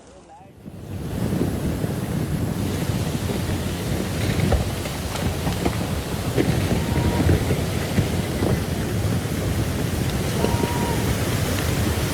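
A violent storm lashes glass doors, heard from inside: heavy rain and gusting wind build into a constant loud roar, with low thunder-like rumbles running beneath.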